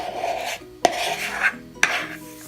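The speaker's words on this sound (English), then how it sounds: "Let me get a spoon so I can scrape all that." Spoon scraping biscuit dough out of a bowl, with a few rasping scrapes and sharp clinks against the bowl, close and clear without talk.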